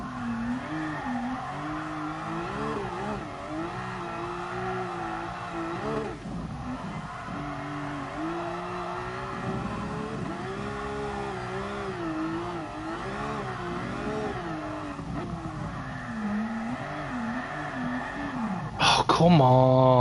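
Car drifting on the Nordschleife in GT Sport: a steady engine whine rises and falls with throttle while tyres squeal and skid through corners, continuous and close, with a sharp burst of noise at the very end.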